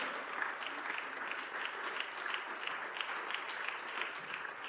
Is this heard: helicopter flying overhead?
no